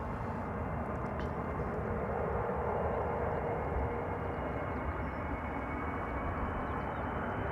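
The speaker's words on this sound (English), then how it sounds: "First heavy of the day, Turkish A330-200 arriving from Istanbul" A Turkish Airlines Airbus A330-200 from Istanbul arrives at Amsterdam Schiphol, its jet engines giving a broad, constant roar that stays steady and moderately loud across the whole stretch, with no voices.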